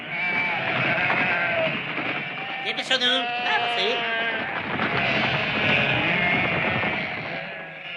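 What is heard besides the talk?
sheep bleating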